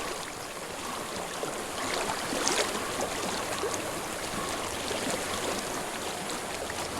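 Flowing stream water in the game Hellblade, a steady broadband rush and trickle that continues evenly throughout, fairly close and without voices.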